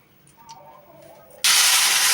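Mustard oil, about half a cup, is heated in a kadai, and a pinch of five-spice tempering drops in with an abrupt, loud, close sizzle that bursts from quiet and holds as a steady hiss.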